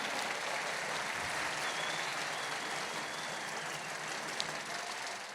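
A large audience at a national family-movement gathering applauds steadily, a dense, even wash of clapping that holds at moderate distance for the whole stretch with no voices over it.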